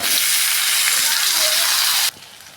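Tomatoes sautéing with ginger garlic paste in a pan for eggplant thokku give a loud, dense, close hiss that cuts off abruptly near the end, leaving a quieter background.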